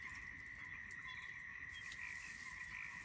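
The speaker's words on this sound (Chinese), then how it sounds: "能拍得出来那个蛤蟆叫的声音吗？" Toads croak at night in a dense, steady chorus of rapid rasping calls on a rural farm in spring, faint and continuous with no talk.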